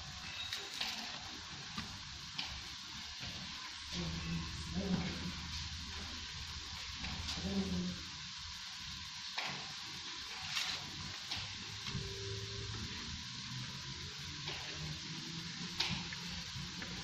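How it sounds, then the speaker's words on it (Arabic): Leeks sauté in a pan for a quick soup, giving a soft, steady sizzle with faint stirring and light crackles, close but quiet throughout. "كتشحر لي البورو."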